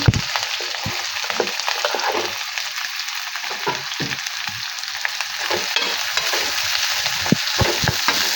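Onion, curry leaves and green chillies frying in hot oil, a steady close sizzle with scattered crackles and pops all the way through and no talk.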